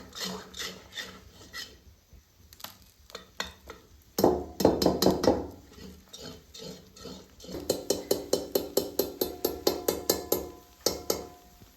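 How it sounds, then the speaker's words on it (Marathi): A thick vadi mixture is stirred in a pan over a village-style wood-fired chulha, giving repeated rasping scrapes of the spoon against the pan. The scraping turns loud and steady, falling into a regular rhythm in the second half, with no talk. "आपल्याला थोडा वेळ असंच मिक्स करून घ्यायचं"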